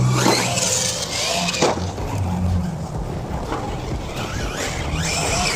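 Hobao Hyper SC 2.0 RC short course truck running on 3S/4S power, its electric motor whining and revving in bursts, with loud surges at the start and end and a sustained buzz between, close to the microphone with no talk.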